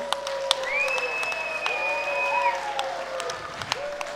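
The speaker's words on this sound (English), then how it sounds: "Everyone give a round of applause for Brendan" Audience at a heavyweight MMA title fight applauds a fighter, a steady wash of clapping and crowd noise at moderate level beneath long whistle-like tones.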